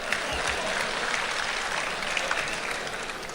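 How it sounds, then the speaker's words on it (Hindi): A crowd claps at a poetry recital and mushaira in Dubai, sustained dense applause throughout, even in level with no pauses. "ताली वाली बजाओ जरा एक बार।"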